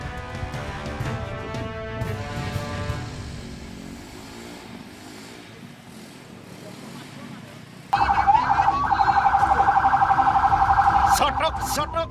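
A fire engine siren wails over a noisy carnival crowd and loud sound-system music in a village in East Java, the warbling tone growing louder and more insistent toward the end.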